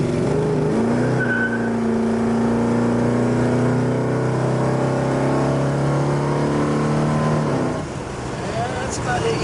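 A 1972 Plymouth Road Runner with a 446 engine accelerates hard, its loud, close exhaust climbing steadily in pitch through the gears for about eight seconds before the throttle lifts and the engine drops back.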